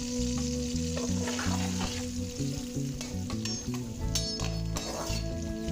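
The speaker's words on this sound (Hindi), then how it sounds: "ये देखिए हमने इसमें प्याज जो है वो ऐड कर दिए।" Onions frying in oil for keema shimla mirch, a loud close sizzle with stirring and metallic clinks of a spoon against the pan, under a steady hum.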